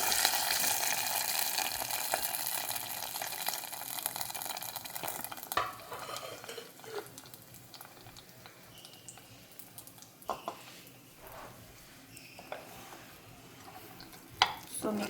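Pongal seasoning being stirred in a frying pan, with soft scraping and faint sizzling that starts louder then settles into quieter, intermittent stirring clicks and taps close by.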